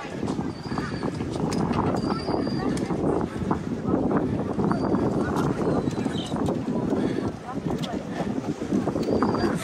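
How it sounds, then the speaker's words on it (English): Wind blows steadily across the Naples Pier on a quiet morning, a continuous low rushing rumble buffeting the microphone for the whole stretch, with faint high chirps above it. "Definitely quiet out here this morning, except for the wind."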